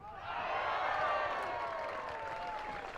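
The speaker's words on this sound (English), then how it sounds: "the roar from the crowd there" Crowd roar rising from spectators at a men's national semifinal platform tennis match, a sustained, broad swell of cheering and applause that holds steady for several seconds at moderate distance, with no clear talk over it.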